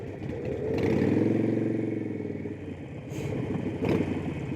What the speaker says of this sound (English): Is that another Sportster?